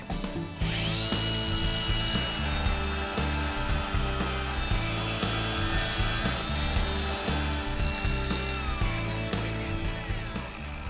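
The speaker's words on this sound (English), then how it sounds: "So I'm going to use an angle grinder with an 80 grit sanding pad" An angle grinder fitted with an 80 grit sanding pad strips old paint and rust from metal, a steady loud abrasive whir with a rough grinding edge that runs continuously, close up, with no talking.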